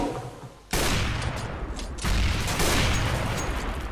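Dense, sustained gunfire from a CS:GO match: a sudden loud burst of rapid shots starts after a quiet moment and keeps rattling, then intensifies into heavier overlapping fire.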